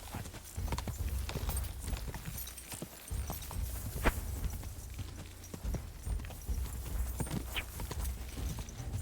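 Horse hooves clip-clop steadily in the medieval game Kingdom Come Deliverance 2, a continuous rhythmic trot over low rumbling ambience with occasional sharper impacts and no voices.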